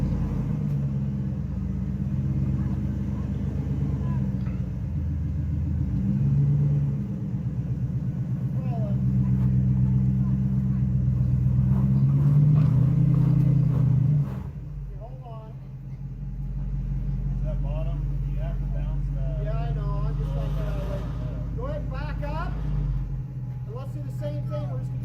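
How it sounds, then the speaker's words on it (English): Steve's Dodge Durango rolls past during a memorial ride, driven by his son, with a low engine rumble that swells and then eases off. People talk nearby over the engine. "comes Steve's Durango. His son is driving it this time, and Steve's coaching him."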